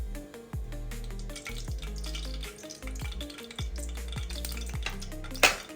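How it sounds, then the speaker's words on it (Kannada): Oil and ghee poured into a well-heated pan while cooking chicken gravy, giving a soft sizzle under steady tonal background sounds, with a brief louder splash near the end. "ಈ ಕಪ್ಪಲ್ಲಿ ನಾನು ಎಣ್ಣೆ ಮತ್ತು ತುಪ್ಪವನ್ನು ಹಾಕಿಟ್ಕೊಂಡಿದ್ದೀನಿ. ಇದನ್ನು ಈಗ ನಾನು ಬಾಣಲೆಗೆ ಹಾಕ್ತಾ ಇದ್ದೀನಿ."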